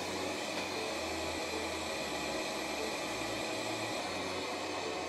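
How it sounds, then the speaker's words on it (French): Robot vacuum cleaner with automatic emptying station and 3000 Pa suction, running as a steady, faint broadband whir with a low hum that shifts slightly in pitch. "L'aspirateur est assez rapide dans ses mouvements"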